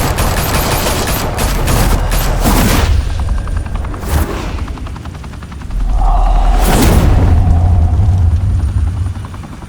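Gunfire in a Batman: The Telltale Series game scene, sustained and loud across the whole stretch, with helicopter-like rotor drone underneath and a brief tonal whine partway through; no talking.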